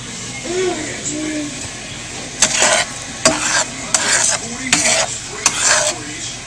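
Keto caramel bubbles and hisses in a pan as it starts to boil, with repeated bursts of spoon scraping and stirring against the pan while a voice talks over it.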